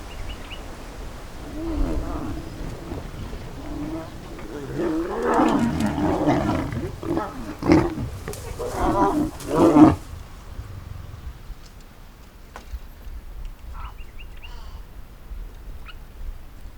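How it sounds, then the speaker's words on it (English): Lions roar close to a bush camp in Botswana, a series of deep grunting roars that swell into a loud climax and then fade, with night ambience around them and no talk. "the lions are like just here, 100 meters that way"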